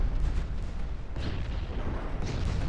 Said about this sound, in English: A Dutch torpedo hit on Dragon.